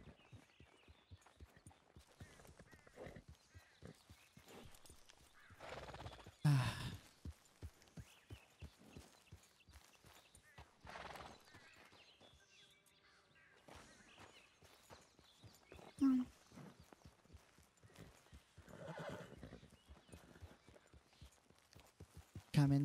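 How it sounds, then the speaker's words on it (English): A horse's hooves clop in a steady, rhythmic walking gait in a video game, fairly faint, with brief louder bursts and some voices heard at times. "Looks like Scarlet's horse"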